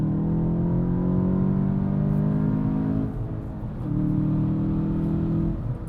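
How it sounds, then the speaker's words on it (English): A 2024 VW Jetta GLI's engine revs steadily toward redline, recorded from inside the cabin; a loud, continuous drone holds, dips briefly partway through, then rises again and stays strong to the end. "now let's listen to it from the inside. Take me to Redline, Yuri"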